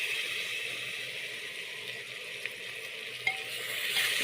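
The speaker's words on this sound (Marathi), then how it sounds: "मसाला चांगला असा परतून घ्यायचा आहे" A ground masala paste is stirred and sautéed in a pan with onion and tomato for egg biryani, giving a steady, close sizzle and frying hiss with faint scraping stir strokes and a couple of small clicks.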